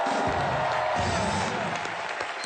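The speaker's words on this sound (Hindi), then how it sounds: "जोरदार तालियां कॉमेडी नाइट्स के लिए।" Steady studio audience applause on a comedy show set, a dense wash of clapping with some cheering and crowd noise throughout.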